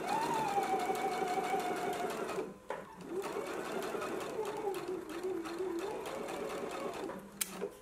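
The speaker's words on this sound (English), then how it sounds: "now we can go to the sewing machine and we want to just stitch" A sewing machine stitches a 5/8-inch seam allowance on a McCall's M8322 garment, a steady close mechanical whir that pauses briefly midway and then runs on, with a faint voice underneath.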